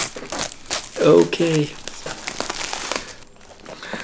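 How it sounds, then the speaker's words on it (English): Cardboard and plastic packaging of a DaVinci Resolve Speed Editor being torn and crinkled open, a loud burst of ripping and crumpling near the mic in the middle of the clip, with quieter rustling before and after. "let me just tear it open"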